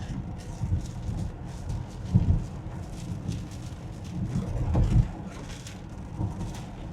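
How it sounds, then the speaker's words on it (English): Steady rain and road noise from inside a car moving on a wet, windy highway, with a broadband wash and occasional louder swells as spray or passing vehicles hit. "So overall, the rain's been consistent"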